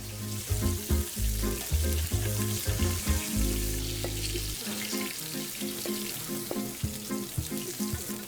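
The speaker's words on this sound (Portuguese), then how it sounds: "depois de selado a nossa barriga e costelinha de porco" Pork belly and ribs sizzle and fry steadily in a pot while being seared for feijoada, a dense crackling hiss with occasional stirring clatter, continuous and fairly close.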